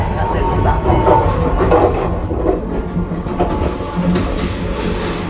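A passenger train runs on rails through the Sri Lankan hills past Kandy, its steady loud rumble and rhythmic wheel clatter continuing close by throughout.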